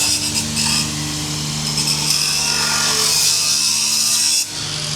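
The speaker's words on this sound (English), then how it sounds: "These just cut them to size with grinder" An angle grinder cuts steel C-section lengths to size in a workshop, a loud, steady, close grinding whine that holds for several seconds before tapering near the end, with no voices.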